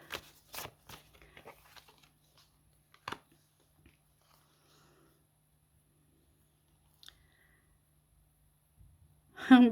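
Tarot cards are shuffled by hand in a quiet room, giving short papery riffles and flicks in scattered bursts, with a brief voice near the end.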